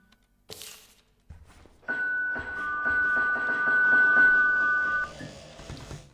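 An in-game doorbell in a horror video game rings with a clear, sustained two-tone chime that holds for a few seconds over soft thuds and background game ambience.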